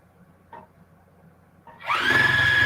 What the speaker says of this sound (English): and then we're going to sew these.